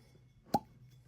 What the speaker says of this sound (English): Okay, that was a nice cork pop.